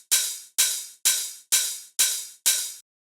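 Six crisp electronic hi-hat hits on the offbeats of a drum track, each with a short bright decay, evenly spaced and played alone, fairly quiet.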